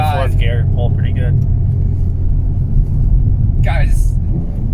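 A 2022 Hyundai Veloster N pulls hard through its gears, a loud, steady low engine rumble with road noise filling the cabin, while people talk briefly over it at the start and near the end.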